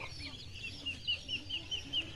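Young female Muscovy ducks, about six to seven months old, call in a steady run of soft repeated notes, moderately close against a low farmyard background.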